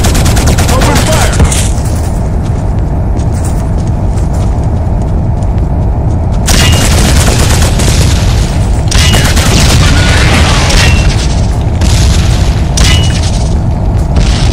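Video game battle in Killzone on PS2, with loud continuous booming explosions and bursts of gunfire filling the whole stretch, the blasts swelling in heavier waves partway through.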